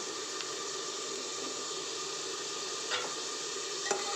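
Beef and chana dal frying with turmeric and spices in a pot, a dense, even sizzle throughout with a couple of faint stirring scrapes near the end.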